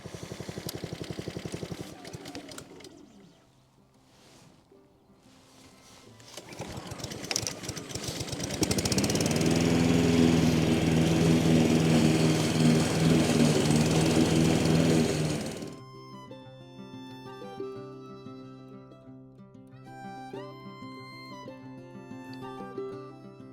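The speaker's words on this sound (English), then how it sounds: "So without further ado, let's get mowing." A lawn mower cuts grass on a lawn being prepared for reseeding, its engine loud and steady for several seconds in the middle before cutting out, with quieter noises and a tonal chirping sound around it.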